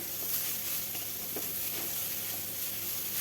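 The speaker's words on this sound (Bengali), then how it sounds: "দেখুন শাকটা এরকম ভাজা হয়েছে।" Kalmi greens (water spinach) frying in a pan give off a steady, fairly faint sizzle with a few soft stirring scrapes, no voices.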